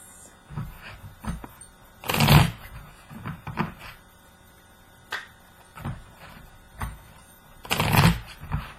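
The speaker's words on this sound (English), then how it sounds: "just going to give a quick shuffle to both card sets" Two tarot card decks are given a quick shuffle, producing several bursts of riffling and soft card slaps with short pauses in between, close and fairly loud with no talking.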